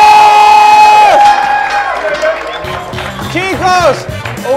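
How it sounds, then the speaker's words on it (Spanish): Studio audience on a Spanish-language talk show cheering and clapping loudly, mixed with whoops, shouts and upbeat music over the whole stretch. "un gran aplauso para Rosalinda Cerfati"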